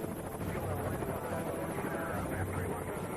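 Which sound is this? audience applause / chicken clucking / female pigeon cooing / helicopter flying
helicopter flying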